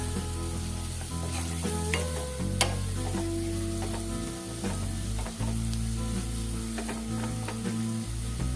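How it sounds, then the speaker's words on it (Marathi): Chopped tomato fries in a pan for egg curry, a continuous sizzle under repeated clinking, scraping stirs of a utensil against the metal, with a low steady hum beneath. "आता छान मिक्स करून घ्यायचंय आपल्याला टोमॅटो चांगला मऊ होईपर्यंत शिजवून घ्यायचंय"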